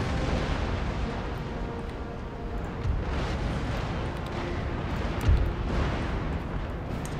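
Ship cannons fire chain shot in a naval battle in Empire Total War, a dense, continuous rumble of booming broadsides with one heavier blast standing out near the end.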